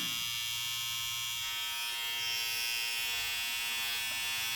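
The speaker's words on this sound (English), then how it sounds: "I think you can clearly hear the voice of this trimmer." An electric hair trimmer hums continuously at close range, a steady high buzz with no pauses.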